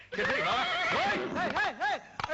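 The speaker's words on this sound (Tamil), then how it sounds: "குதிரை எடுத்துட்டு ஓடுதே" A horse whinnies loudly and close by in several rising-and-falling calls, with a brief scuffle at the end as it bolts away; voices mix in.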